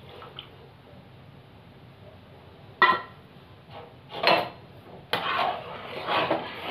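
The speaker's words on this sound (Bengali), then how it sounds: "তো ভালো করে আমি নাড়িয়ে নেবো এবার।" Spoon stirring vegetable gravy thickened with cornflour in a pan, with soft wet squishing and a few sharp clinks of utensil against metal, close and fairly quiet, separated by gaps.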